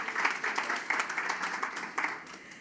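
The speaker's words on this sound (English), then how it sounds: "Frontline workers, you are heroes. Give yourselves a round of applause." Sparse, uneven clapping from an audience at a Ministry of Social Development and Family Services event, honouring frontline social workers, with individual claps standing out at moderate volume and no voices over it.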